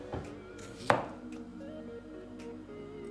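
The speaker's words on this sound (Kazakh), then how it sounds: "Май қызғанша өнімдерімді турай тұрайын." A couple of knife chops on a cutting board while salad ingredients are sliced into thin sticks, brief and fairly quiet, one firmer knock standing out over a low kitchen hum.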